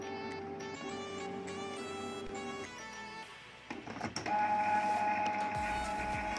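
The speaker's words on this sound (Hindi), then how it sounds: "हमारा प्रिंटर अभी भी आवाज़ कर रहा है, ये लगभग 5 से 10 मिनट का समय लगता है" Canon G-series ink-tank printer (G2000–G5000 range) whirring steadily as it draws ink from the tanks to the print head, a sustained mechanical drone that shifts pitch midway and grows louder, with no talk.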